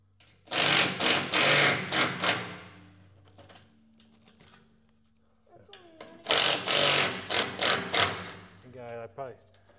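A small impact gun loosens bolts while installing a hydraulic motor on a Case 1840 skid steer, two loud rattling bursts of hammering separated by a quiet gap, close by with no talk.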